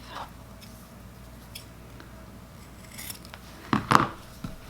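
Scissors snip through a small fabric strap tab, cutting it in half: a few quiet clicks early, then two sharp, close crunching cuts near the end against a faint room hum.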